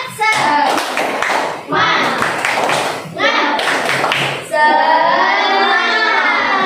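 Schoolchildren in a classroom doing a rhythmic chanted clapping routine, loud bursts of claps in patterned groups alternating with children chanting together and a teacher's voice.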